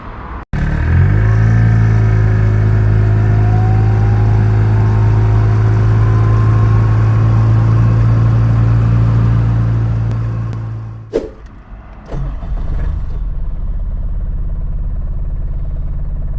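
A Chatenet CH-46 microcar engine revs up and holds a loud, steady drone close by for about ten seconds, then cuts sharply with a clunk and settles into a lower idle.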